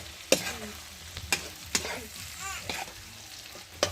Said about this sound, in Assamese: অলপ মাংস আৰু আলু ফ্ৰাই হৈ গৈছে